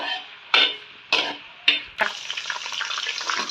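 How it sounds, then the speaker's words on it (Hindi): Three medium chopped onions drop into hot oil in a pan in quick bursts, then settle into a continuous crackling sizzle with scattered pops as they begin frying toward golden brown, no voices. "और हमारे पास ये 3 अदद मीडियम प्याज जो हमने अच्छे से चॉप करके वॉश करके रख लिए, तो ऐड करेंगे, इनको गोल्डन ब्राउन कर लेंगे"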